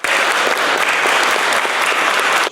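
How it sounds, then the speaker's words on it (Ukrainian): Loud, steady applause from a crowd at a city council gathering honouring street cleaners fills the whole stretch, dense and continuous without talk. "Їх вітали гучними оплесками."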